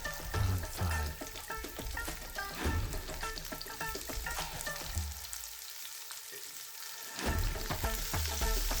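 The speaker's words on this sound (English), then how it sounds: "Next we are going to add around 4 onions cut in halves and then quartered" Onions cut into halves and quarters fry in a pan for paneer butter masala, a dense, steady sizzle with crackling, close and loud, briefly easing in the middle before surging again; no one speaks.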